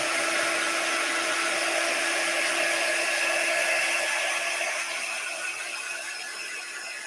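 A hair dryer blows continuously to dry a craft transfer, a close, steady rushing whine that eases slightly toward the end, with no voices.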